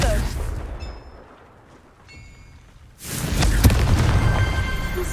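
The Confringo spell exploding in Hogwarts Legacy, heard as a sudden loud blast that turns into a sustained roaring, crackling burst after a quieter stretch with faint game tones.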